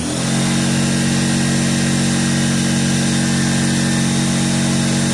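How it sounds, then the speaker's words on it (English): An air compressor in a small-engine repair shop starts up and runs with a loud, steady motor drone and a strong low hum that holds constant throughout, with no talking. "Sorry for the noise, the air compressor comes on."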